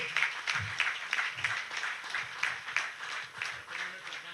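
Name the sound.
audience applause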